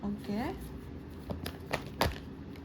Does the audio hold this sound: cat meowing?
no